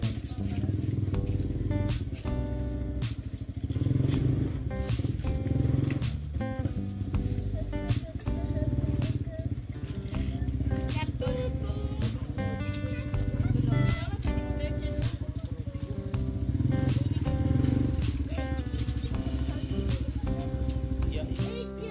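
A motorcycle engine drones steadily and loud for the whole stretch, with a continuous low rumble and fluctuating revs, while people talk over it.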